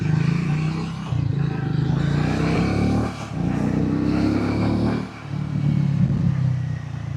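A Triumph Speed T4 motorcycle pulling away hard in first gear, its loud, steady engine drone rising with brief dips between surges, close by and without talk.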